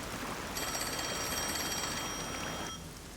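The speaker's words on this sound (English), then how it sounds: "Oh, the phone." A telephone rings in the Rain Code video game, a steady electronic bell trill lasting about two seconds over a constant background hum before cutting off.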